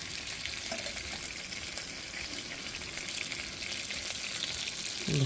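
Ginger paste sizzles in a frying pan while making fish roe kofta, a soft, steady frying hiss heard close up with a faint watery bubbling and a louder splash at the end.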